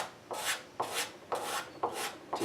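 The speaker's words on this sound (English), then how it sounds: "I've just sharpened a scraper blade" A freshly sharpened scraper blade drawn over a wooden table leg to clear file marks, five rhythmic rasping strokes close up, each a bright scratchy swipe with short pauses between.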